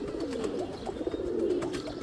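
Soft, rolling coos come from a tota pigeon kept among racing pigeons, steady and close against a constant hum of background noise.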